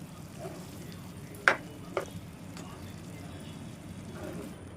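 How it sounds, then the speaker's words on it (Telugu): Chickpea curry being stirred in a pan, giving faint soft scraping and a couple of brief clinks of the utensil against the pan over a low, steady background hum. "ఇదిగోండి ఒకసారి మొత్తం కూరంతా కలిపేసుకుందామండి"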